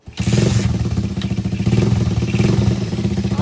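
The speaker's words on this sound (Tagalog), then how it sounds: "kailangan natin dito nakabukas yung motor natin" A motorcycle engine running close by, a loud, steady chugging idle with a rapid pulsing rhythm throughout.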